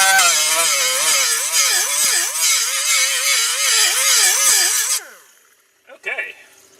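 A small die grinder whines loudly and close for about five seconds, its pitch wavering as it bites into metal on a V8 Crossfire project car, then spins down and stops, followed by a brief short noise.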